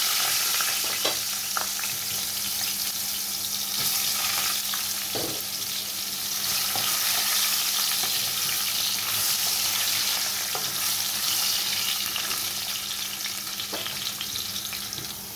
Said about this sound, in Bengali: এখানে আলুটা হালকা ভেজে নিয়েছি।